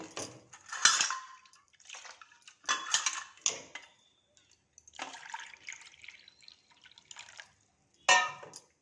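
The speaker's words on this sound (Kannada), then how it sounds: "ನೋಡಿ ಮೂರು ನೀರು ಹಾಕೊಂಡಿದ್ದೀನಿ" Water being poured into a pot while making rice-semolina battalu kadubu: close splashing bursts with clinks, repeated at irregular intervals and separated by quiet gaps, with no voices.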